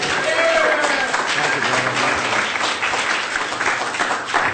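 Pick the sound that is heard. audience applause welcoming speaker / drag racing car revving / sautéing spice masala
audience applause welcoming speaker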